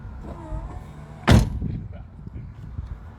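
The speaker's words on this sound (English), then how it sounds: "you press the button to close the door" A single solid thump of a car door shutting, close and sharp, with quiet talking and a faint motor whir before and after.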